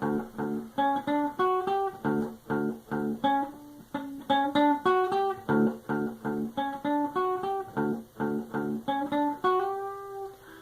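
An electric guitar plays a riff: clear, plucked notes in a bouncy rhythm, with whammy pitch bends sliding some notes up, ending on a held, bent note.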